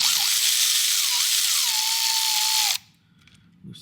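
Power tool spinning to loosen a 7mm bolt on a 2022 Ford 6.7 intake, a loud high whine with pitch dips that cuts off abruptly, leaving a faint clink after.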